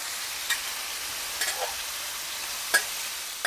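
Corn fries on a hot oiled Blackstone griddle with a continuous close sizzle, punctuated by a few sharp clicks and taps of a spatula, and no voices.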